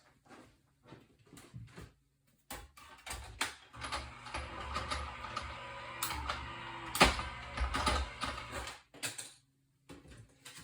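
Electric die-cutting machine running a crooked die through card stock, a steady mechanical whirring and rolling grind lasting several seconds, framed by clicks and clatter of handling the plates before and after.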